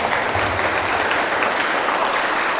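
Audience applause at a leadership seminar, a dense, steady wash of many hands clapping at once, loud and continuous with no talk over it.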